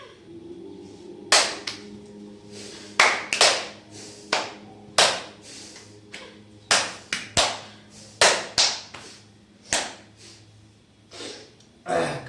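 Hands clap repeatedly during a stretching exercise in a pranayam and yoga session, with about a dozen sharp, fairly loud claps at an uneven pace and a low steady hum between them.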